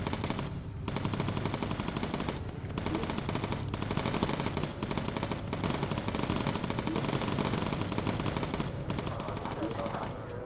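Dense, continuous machine gun fire from aircraft turrets in the WWII bomber game Bomber Crew, rattling steadily and loudly for the whole stretch with only brief gaps between long bursts.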